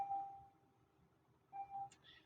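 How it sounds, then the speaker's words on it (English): A school bell sounds in a classroom as two faint electronic tones, one at the start and another after a short pause, over quiet room noise. "pause for the bell"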